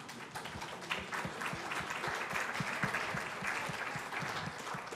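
An audience at a church community gathering applauds, a dense, steady crowd clapping that holds for several seconds at moderate distance.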